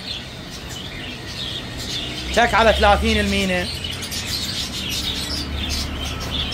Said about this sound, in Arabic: هذني البلاب العراقيات